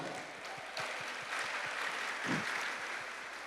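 A church congregation applauds at a Portuguese-language memorial service, giving a faint, steady patter of rhythmic clapping with no talk over it.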